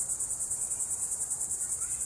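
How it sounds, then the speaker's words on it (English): Cicadas give their mating call in Florida wildlife: a continuous, high-pitched rhythmic buzzing that pulses rapidly and evenly, moderately loud and alone with no voices. "There's bugs. There's cicadas, what they call them. And that's their mating call."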